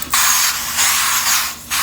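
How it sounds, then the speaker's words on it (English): Glass-skin setting spray is misted onto a face in three quick, close hissing bursts separated by short pauses. "I'm gonna spray one side of the face first to see it look"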